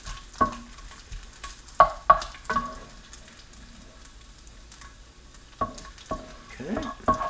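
Crisp rendered bacon is scraped and pushed across a frying pan, giving several sharp stirring clacks and scrapes over a soft background sizzle, close and fairly loud.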